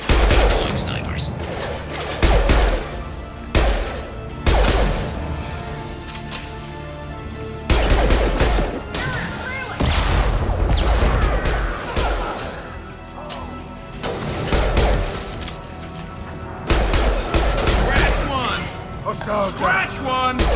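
Sniper fire in a video game: repeated loud shots and sharp crashes in irregular bursts, mixed with radio-style voice lines and battle chatter over a constant background din.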